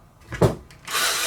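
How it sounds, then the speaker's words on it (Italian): A drill or screwdriver bit spins on plastic parts of a Polti Vaporella Forever 850 steam iron, a short whirr after a brief knock, moderately close and alone. "la punta dell'avvitatore, la punta del trapano, girando in questo senso, si tira verso di sé"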